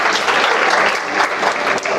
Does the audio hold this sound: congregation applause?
yes